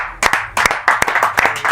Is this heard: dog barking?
no